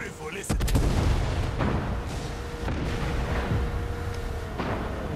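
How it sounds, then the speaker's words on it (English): Fireworks burst in the video game Far Cry 6, heavy booms and cracks rolling over a steady roar of ambient game noise, with several distinct blasts spaced through the stretch. "Check out the fireworks."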